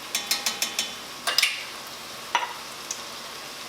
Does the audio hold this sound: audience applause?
no